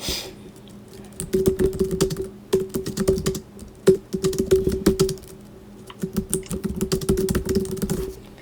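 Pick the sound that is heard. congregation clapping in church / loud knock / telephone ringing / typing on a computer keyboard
typing on a computer keyboard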